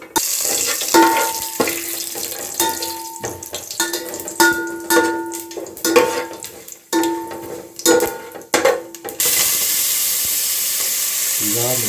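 Mustard seeds and cumin crackle and sizzle in a hot pot, a dense close frying hiss broken by repeated clinks and scrapes of a utensil against the metal, ending in a steadier sizzle without talk.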